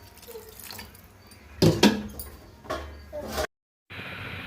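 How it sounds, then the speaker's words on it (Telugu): Water pours into a pan of brinjal curry cooked with chana dal, a close splashing gush that swells briefly and cuts off, then a softer hiss of water settling, with quiet kitchen sounds before it. "కొంచెం వాటర్ పోసేసుకుందాం,"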